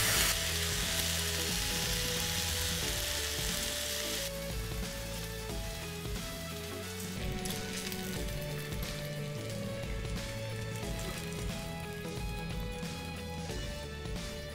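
Bread slices for a Cuban sandwich sizzle and fry steadily in a pan, a continuous crackling hiss with small pops, fairly quiet and without any talk.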